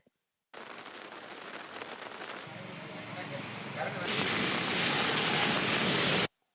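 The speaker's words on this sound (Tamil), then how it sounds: "விடியற்காலை முதல் காற்றுடன் கூடிய மழை பெய்து வருகிறது" Heavy rain driven by wind pours down across Kallakurichi district in Tamil Nadu. It makes a dense, continuous roar that swells louder partway through, then cuts off abruptly.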